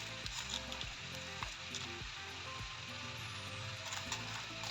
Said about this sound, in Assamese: মাছৰুমখিনি দি অলপ টাইম ভাজি ল'ম